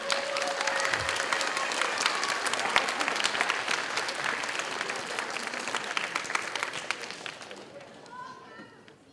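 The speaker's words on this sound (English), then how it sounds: "so give her a round of applause" Loud, dense applause from the audience at a 5th and 6th grade school band spring concert greets the guest conductor. The clapping holds strong for several seconds, then thins and fades toward the end.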